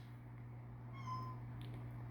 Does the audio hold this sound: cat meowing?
yes